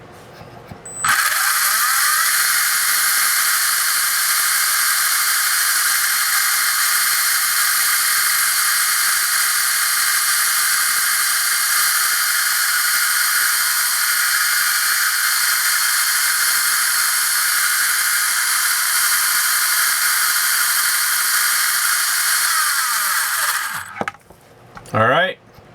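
An electric RC car motor from an R1 Wurks V30 setup spins up and holds a steady full-throttle high-pitched whine for about twenty seconds before winding down, loud and close with no talk.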